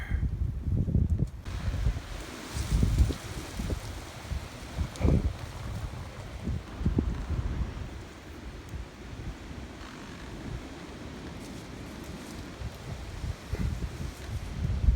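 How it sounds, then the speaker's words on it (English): Gusty wind buffets the microphone continuously while burning trimmed pear and apple tree branches, with low rumbling bursts rising and falling throughout; no voices, just steady outdoor blowing. "Windy everywhere."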